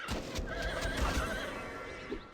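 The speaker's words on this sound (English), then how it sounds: "Ornery old horse." A horse in The Bard's Tale whinnies with a wavering, drawn-out cry over a busy background of game sounds and low thumps.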